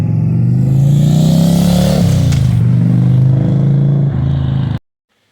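A 2023 Indian Challenger motorcycle fitted with a Lloyd's slip-on exhaust passes by under throttle: a loud, deep, steady V-twin roar whose pitch drops as the bike goes past, then cuts off abruptly.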